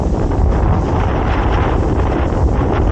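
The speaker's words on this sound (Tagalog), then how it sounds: "sobrang lakas ng hangin" Strong, steady wind on a mountain trail buffets the microphone with a constant low roar and rumble, loud and close, with no voices.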